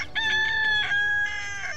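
A rooster crows in one loud, close call, its drawn-out harmonic cry rising and falling over a little under two seconds with no other sound.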